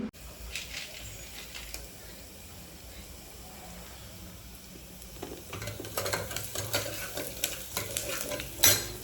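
Sandga, dried lentil dumplings, sizzle steadily in tempering oil in a pan while a utensil stirs and scrapes, the frying growing busier toward the end.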